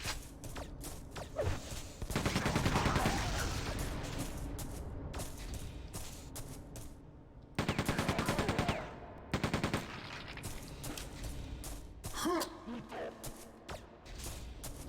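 Repeated bursts of rapid machine gun fire in the Quake 2 Remaster shooter, several loud rattling volleys separated by quieter gaps with a few single thuds and a voice talking between them.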